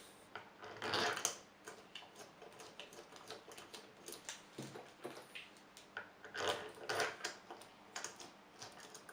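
Screws being started by hand on the head of a Beta4b dosing pump, giving a run of small, close plastic-and-metal clicks and taps in scattered bursts.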